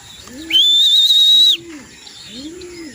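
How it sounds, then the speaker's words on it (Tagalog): Racing pigeons returning from a training race, soft repeated coos rising and falling in rhythm close by, with a bright sustained whistle-like tone briefly cutting in over them. "ayun, galing karera yung mga kalapatid"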